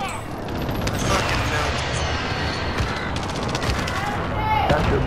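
Rapid bursts of video game gunfire, dense and loud, sounding like automatic weapons in a combat match, continuing without a break with a player's voice talking over it.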